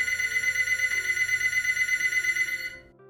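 A telephone rings with a steady electronic trill that pulses evenly for nearly three seconds, then cuts off abruptly, heard alone with no talking.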